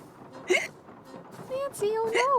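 Hiccup powder in a Nancy Drew game triggers a couple of short, sharp hiccup sounds with a rising pitch, scattered through a few seconds of quiet room tone.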